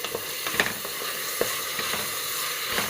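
Two medium-sized tomatoes, finely chopped, hitting a hot pan for a quick rice dish, giving a soft steady sizzle and frying crackle with a few sharp pops, close and quiet.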